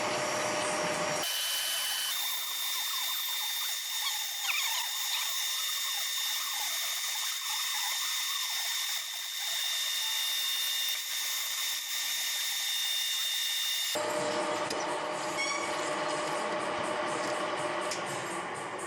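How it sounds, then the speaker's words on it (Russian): A power drill enlarging bolt holes in an engine block to take M14 x 1.5 thread inserts, a steady, loud mechanical whine running continuously with a sudden shift in tone partway through. "попросту рассветливает под нужную резьбу будущей футорки"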